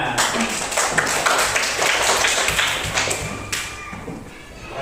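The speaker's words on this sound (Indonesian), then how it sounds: "bagus, tepuk tangan" A classroom group claps together in a dense burst of applause for several seconds, bright overlapping hand slaps close by, fading near the end.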